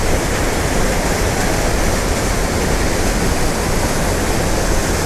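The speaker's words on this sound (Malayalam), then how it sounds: "അപ്പൊ നമ്മള് വെള്ളച്ചാട്ടത്തിന്റെ അടിയിലെത്തിയിട്ടുണ്ട്." Sulthana waterfalls in Kerala, heard from the foot of the falls, give a loud, unbroken roar of crashing water that holds steady throughout, with no voices.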